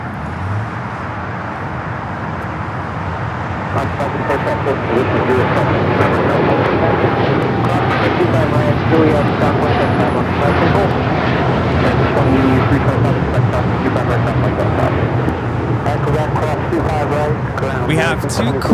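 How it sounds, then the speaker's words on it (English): A United Airlines Boeing 787-9 Dreamliner bound for Tokyo Narita takes off at LAX, its steady loud engine roar building and holding throughout, with people talking over it. "Our takeoff is United Airlines Flight 32, headed out to Tokyo Narita on the 787-9 Dreamliner"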